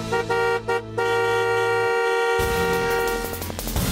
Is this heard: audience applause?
no